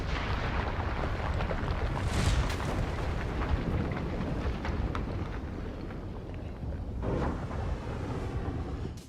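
A MOAB, the Mother of All Bombs, a 30-foot, roughly 11-ton bomb packed with H6 explosive, goes off in a sustained, heavy rumbling roar that swells and rolls on without pause for several seconds.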